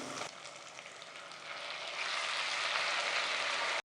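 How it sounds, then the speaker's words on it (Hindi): Onions sizzle in a hot pan for keema karahi, a steady close hiss that grows slightly louder partway through, with no voices. "तो इसको प्याज को फ्राई करते हैं जब तक"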